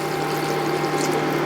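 Water is poured steadily into a cooking pot for a dish of wood pigeon, a continuous close rushing with no pauses and no talk over it.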